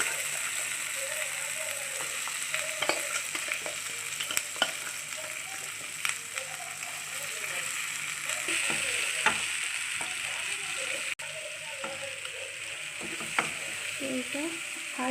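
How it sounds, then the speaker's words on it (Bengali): Ground green pea paste frying on a high flame, with steady close sizzling and repeated scraping and stirring strokes throughout, no talking. "এটা হাই ফ্লেমে দিয়ে আমি 5 থেকে 6 মিনিট মতো ভালো করে ভেজে নেব"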